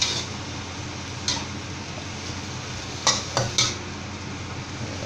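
Tofu stirred and flipped in a pan of hard-boiling liquid, giving a steady bubbling hiss with a few sharp ladle clinks against the pan, close by and with no talking.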